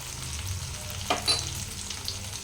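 Coriander, cumin and turmeric frying in hot oil, a steady close sizzle with a brief stirring scrape in the middle, no voices.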